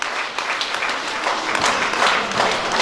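Audience applauding at a long-hair contest, steady dense clapping from a crowd filling the whole moment without a break.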